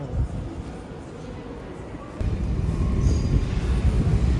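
A Paris metro train rumbles in a large echoing station, its low drone swelling louder midway, with faint squeals and distant voices in the background.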